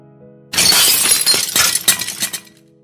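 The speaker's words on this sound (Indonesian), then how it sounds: "Suara pecahan keras menggema di seluruh ruangan" A glass drink bottle smashes with a sudden loud crash, followed by a scatter of tinkling fragments that fade over about two seconds after a quiet start.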